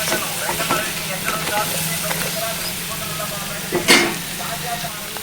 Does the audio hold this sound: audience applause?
no